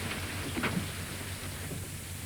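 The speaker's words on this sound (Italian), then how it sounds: "specie se pioveva forte come adesso" Heavy rain falls steadily in a dark city street at night, a dense continuous hiss with faint low rumbles underneath, with no voices present.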